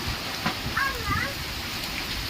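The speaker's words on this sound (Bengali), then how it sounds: "দেখতে পাচ্ছ বন্ধুরা, এখনও পর্যন্ত বৃষ্টি থামার কোনো নামই নিচ্ছে না।" Heavy overnight rain falls steadily outdoors, a constant dense wash of drops at moderate loudness, with some brief faint tones over it.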